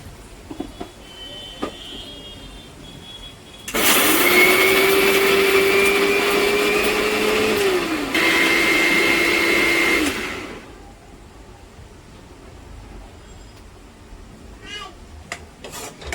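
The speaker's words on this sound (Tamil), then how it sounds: "இப்போ வந்து இந்த வறுத்த மசாலாவை அரைச்சிட்டு வந்துடலாம்." A mixer grinder whirs loudly for about six seconds as roasted masala is ground, cutting out briefly partway through before restarting, with quieter kitchen background before and after.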